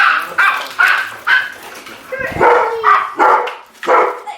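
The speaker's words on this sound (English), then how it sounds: "Oh, the puppies. They missed us." Several puppies bark and whimper in quick succession, with about eight sharp, close yips at a steady, eager rhythm and a brief whine near the middle.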